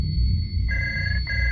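A telephone ringing, a bright electronic trill that sounds in two bursts over a low rumbling background, fairly loud and close, with no speech.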